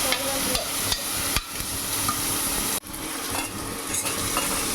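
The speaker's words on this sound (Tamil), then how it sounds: "வெங்காயம் நல்லா பொன்னிறமாக வதங்கணும்." Onions sauté in a pan for chicken salna, a steady loud sizzle with clinks and scrapes of a spoon stirring against the metal.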